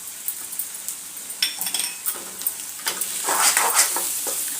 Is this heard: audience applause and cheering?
no